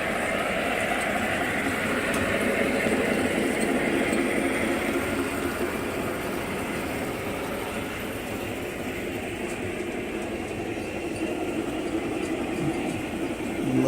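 A model train runs steadily through a museum layout, a continuous low rumble and clatter of wheels on track holding at even loudness for the whole stretch, with no talk over it.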